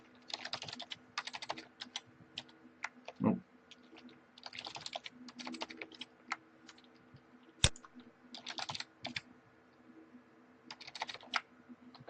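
Password typed on a computer keyboard in a quiet room: bursts of quick, soft key clicks with pauses between them and a couple of louder single taps, no talk.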